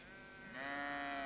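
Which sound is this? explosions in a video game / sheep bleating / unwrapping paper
sheep bleating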